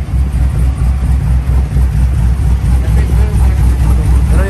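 A twin-turbo Chevrolet Silverado pickup engine with turbine mufflers idles with a steady low, throbbing rumble close by, loud and continuous.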